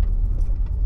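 A car being driven through a turn gives a steady, close, low engine rumble with a faint light rattle on top.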